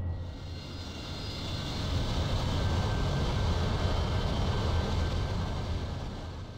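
Steady, loud roar of an AV-8B Harrier jet engine inside the DCS World flight simulator, a continuous broadband whoosh with a faint high whine that swells slightly and holds without pause.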